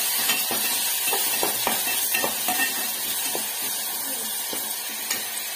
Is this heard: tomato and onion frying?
yes